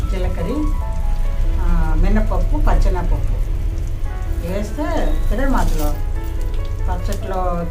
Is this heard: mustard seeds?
yes